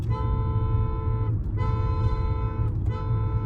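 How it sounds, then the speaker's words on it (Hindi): A car horn on a Hyundai Creta being tested near a village by Hanle in Ladakh, a steady loud honk sounding nearly continuously with two brief breaks. "अभी जस्ट मैं ट्राई कर रहा था हॉर्न का, हॉर्न सही हो गया है"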